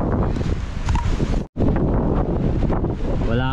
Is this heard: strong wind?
yes